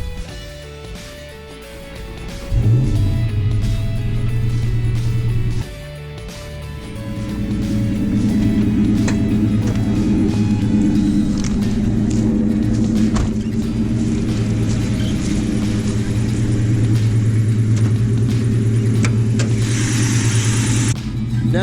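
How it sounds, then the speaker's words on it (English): A Ford Mustang GT V8 cranks over and settles into a steady, loud idle rumble, with a brief dip before the engine note picks up again and holds strong. "we're just going to start the car and pop the hood"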